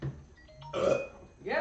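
A person burps once, a short throaty belch close to the microphone, with brief speech around it.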